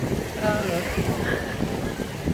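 Cold wind blowing across a shore at high tide, a steady rough rush buffeting the microphone with no clear breaks.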